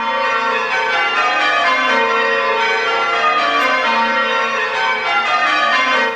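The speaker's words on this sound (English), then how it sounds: "English church tower bells have a unique combination of control and sound." Christ Church tower bells in an English church pealing continuously, loud and resonant, with overlapping rings forming a steady wash of tone and no talk.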